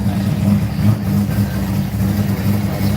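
A rotary-engined Toyota Supra rumbling nearby, a loud steady low engine drone with slight revving pulses throughout, no voices.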